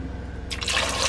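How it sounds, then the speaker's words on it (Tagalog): Water poured into a bowl of grapes for washing, starting as a low background hum and then turning into a loud, close, steady rushing splash. "Lagyan pa natin ng konting tubig."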